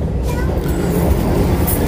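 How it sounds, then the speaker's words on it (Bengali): A Vande Bharat Express pulls out of Jajpur Keonjhar Road station, a loud, steady low rumble of the moving train heard from inside the coach, with a faint voice in the mix. "আমাদের ট্রেন ছেড়ে দিল জাজপুর কেওনঝড় রোড থেকে"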